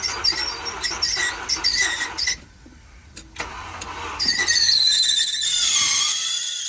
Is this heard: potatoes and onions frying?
no